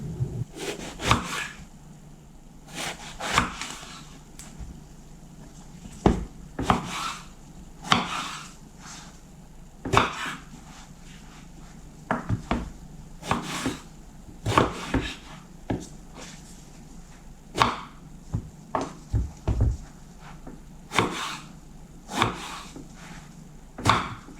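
A knife taps and slices eggplant repeatedly on a wooden board in irregular bursts, close up, with scraping between cuts.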